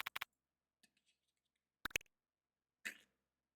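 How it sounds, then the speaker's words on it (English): Nintendo DS PictoChat typing sound effects: a few short, faint electronic clicks and blips in separate bursts, with silence between them. "and the typing sounds"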